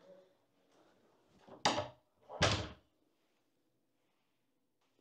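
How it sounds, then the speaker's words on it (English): A heavy bedroom door in a Scottish castle swings shut, giving two loud, close wooden thuds about a second apart after a quiet stretch, then silence. "Oh, the doors are quite heavy."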